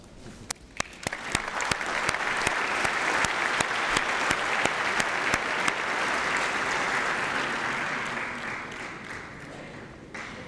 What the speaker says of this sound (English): You, honorable ministers and partners, you deserve an applause.